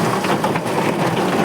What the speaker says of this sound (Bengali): এখন যা মুসুন্ধরা বৃষ্টি হচ্ছে